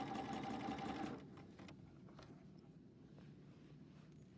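A sewing machine stitches pillowcase fabric in a brief, fairly quiet whirring burst at the start, then stops, leaving faint handling noises and a low room hum.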